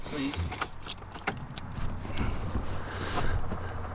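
Keys jangle and click as the ignition of an old Reliant car is switched on during fault finding, close up over a low steady hum, with faint voices nearby.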